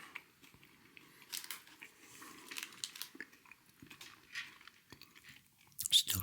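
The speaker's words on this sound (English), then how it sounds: "Still trying to chew that off." Someone chews a Picnic chocolate bar close up, with soft crunching, biting and sticky mouth sounds in quiet, irregular bursts and a louder crunch near the end.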